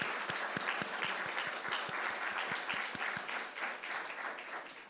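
A church congregation applauds after a special hymn at a Parents' Day service, with soft, continuous clapping and a few distinct nearby claps in a regular rhythm.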